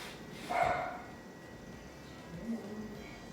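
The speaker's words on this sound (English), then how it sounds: "Guard dogs on duty." Guard dogs bark inside a house, one sharp bark followed later by a softer one, fairly faint and set against a quiet room.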